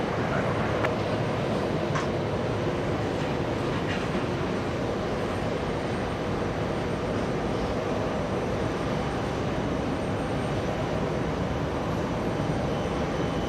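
Saudia airliner in special livery moving at JFK Airport, a steady low rumble of distant jet engines with a few faint clicks, constant throughout.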